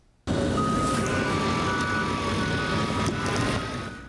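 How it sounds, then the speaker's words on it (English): Big trucks work at a landfill in Missoula, Montana. A loud, steady engine roar starts abruptly and holds throughout, with faint high tones above the rumble. "big trucks move around tons of trash that we toss each day."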